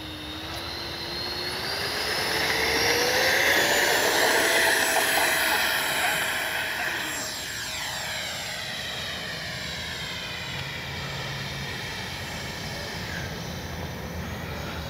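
An FMS F-16 64mm EDF radio-controlled jet, flown loaded with ordnance at near full throttle on a morning flight, whines steadily overhead, swelling louder as it passes close and then easing to a sustained distant drone with a falling pitch.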